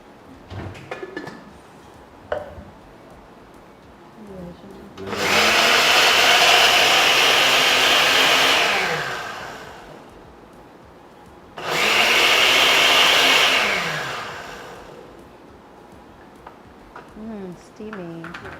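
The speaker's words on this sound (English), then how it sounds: "now also we're going across to the blender" A blender whirs loudly through dasheen dip ingredients in two long bursts of several seconds each, with a pause between them and quieter kitchen clatter before and after.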